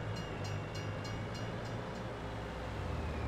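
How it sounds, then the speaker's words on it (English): A train in the Farming Simulator 22 video game gives a steady heavy rumble with a low droning hum and regular metallic clicks, loud and close, with no talk. "The train's stuck there for some reason."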